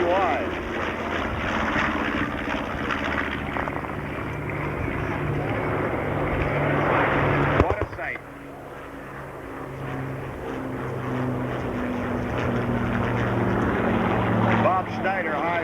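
A PBY flying boat passes at the 1994 Dayton air show, its steady propeller engine drone filling the air under continuous announcer talk over loudspeakers.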